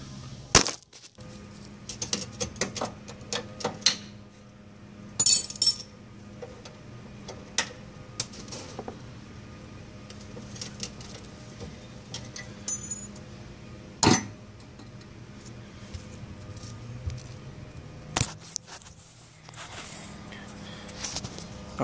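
Box wrench working the rear bumper bolts of a Jeep Wrangler YJ: quiet, irregular metallic ticks and clicks with occasional sharper knocks, scattered over a low background hum.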